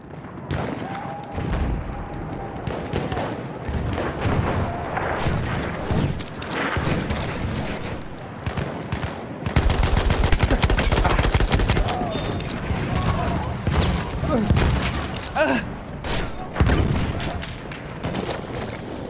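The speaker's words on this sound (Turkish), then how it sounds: "Orada bir makinalı tüfek var." Battlefield 1 combat with machine gun fire and rapid gunshot fusillades over booming explosions, loud and dense throughout. A voice talks over the shooting.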